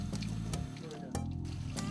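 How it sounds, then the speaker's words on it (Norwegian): Fresh cold water pours into a coffee kettle, a gurgling, splashing fill with small bursts and trickles, close and moderately quiet, over a bed of background sound. "Fyll friskt kaldt vann i kaffekjelen."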